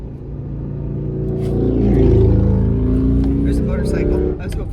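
A motorcycle passes on the road, heard from inside a car as a dense, low engine rumble that swells to a peak midway and then eases off.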